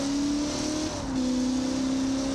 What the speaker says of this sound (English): One thing I love about that LS engine is they will scream.